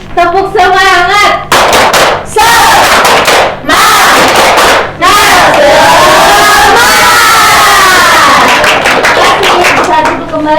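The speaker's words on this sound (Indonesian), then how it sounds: "Tepuk semangat." A class of primary school pupils stands and performs a rhythmic spirit clap chant, loud shouted group voices alternating with bursts of clapping in a steady pattern, close and energetic throughout.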